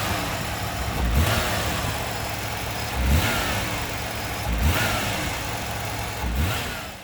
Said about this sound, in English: When I was revving the motor,